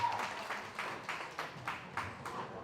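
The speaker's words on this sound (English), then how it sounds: "we want to have a big round of applause for Magdi" Rhythmic clapping from a crowd at a Met Gala-style celebration, a steady run of about ten evenly spaced claps, moderately faint and somewhat distant with no talking over it.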